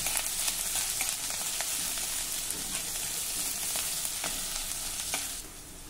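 Crushed ginger, garlic and green chillies are sautéed in a pan with a dense, even sizzle. Faint stirring taps recur through it, and the sound drops off near the end.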